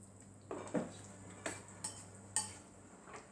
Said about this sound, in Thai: ใส่ลงไป คนให้เข้ากัน